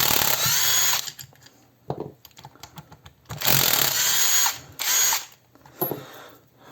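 A DEVETECH CIW-500 cordless impact wrench rated at 500 Nm fires in several loud, rattling bursts of a second or less, with short quiet gaps between them.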